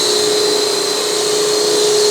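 Scroll saw rough-cutting a piece of timber while a hooked-up dust extractor runs, giving a loud, steady close-up whine and broadband roar with a constant high tone throughout, no voices.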